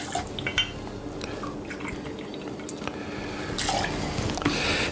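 Bourbon pours into a cocktail glass with faint trickling and a few drips and clinks up close, without talk.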